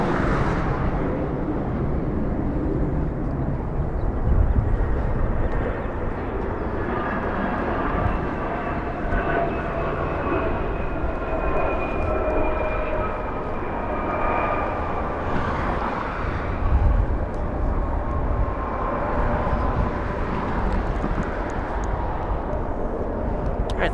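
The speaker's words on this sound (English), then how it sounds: "We're gonna have another SkyWest departure on your right side of the screen. That one's cleared for takeoff" A SkyWest airliner departing Los Angeles International Airport for Sacramento roars on its takeoff run, a loud sustained engine rumble with rising whining tones that swells and fades across the runway.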